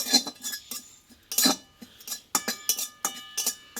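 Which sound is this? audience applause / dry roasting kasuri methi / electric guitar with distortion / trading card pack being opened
dry roasting kasuri methi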